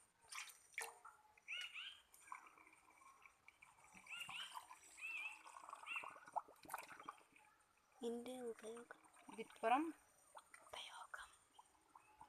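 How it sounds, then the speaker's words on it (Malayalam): Water poured into a pipe on a homemade tank-cleaning tool, a soft trickle with dripping and a few rising gurgling glugs toward the end, quiet and close, under low murmured voices. "ഇനി നമുക്ക് ഇതിനകത്തോട്ടേക്ക് വെള്ളം ഒഴിച്ചു കൊടുക്കാം"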